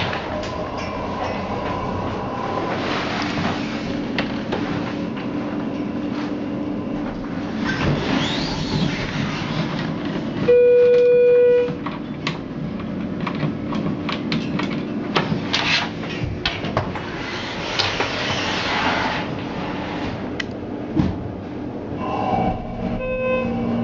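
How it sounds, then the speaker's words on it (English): A quiet Schindler 330A hydraulic elevator motor runs at a Kohl's store in a New Jersey mall, a low, faint hum under background shopping noise, with a brief electronic tone partway through. "Quiet 330A motor, quiet Schindler motor."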